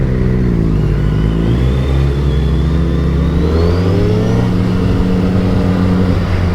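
A Suzuki Hayabusa motorcycle threads through Paris traffic, lane splitting between cars. Its engine drones loud and close throughout, with the pitch sliding down, then climbing steadily as the rider accelerates.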